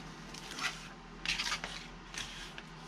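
Scissors snip a paper tab at an angle up to a score mark on a handmade gift box, three short crisp cuts with faint rustling between them, close and quiet with no voices.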